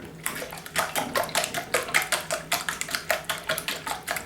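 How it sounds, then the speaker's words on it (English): Eggs are beaten by hand in a bowl for a custard, giving a fast, steady rhythm of light clicking and sloshing strokes at low volume, with no voices. "we're going to beat these eggs until they're nice and creamy"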